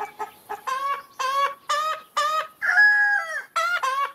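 A rooster crows loudly and close by in a series of repeated, rhythmic cock-a-doodle-doo calls, each burst clearly separated, with one long drawn-out note in the middle.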